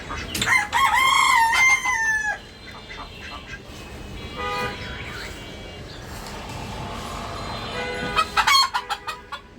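Rooster crowing and chickens clucking at a rooftop coop that also houses pigeons; a loud crow opens, softer clucking and bird calls follow, and a burst of sharp calls rises near the end.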